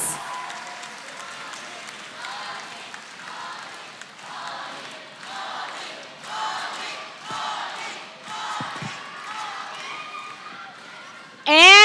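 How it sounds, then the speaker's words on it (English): An arena crowd at an MPL Philippines Season 13 Mobile Legends esports playoff applauds and cheers in repeated swelling waves for about twelve seconds, loud and reverberant, with a sharp louder burst at the very end. "Everybody, let's give him a big round of applause."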